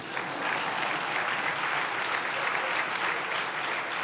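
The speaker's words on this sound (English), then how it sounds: "we can clap for Ed" An audience at the 2018 Profile in Courage Award ceremony breaks into warm, even applause that fills the room steadily throughout.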